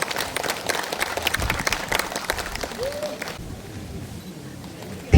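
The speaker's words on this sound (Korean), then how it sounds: "김종애 회장님을 큰 박수로 맞이해 주십시오." Applause from a crowd welcoming a lecturer at a literature festival award ceremony, a dense burst of clapping for about three seconds that then drops to a quieter room with a faint murmur.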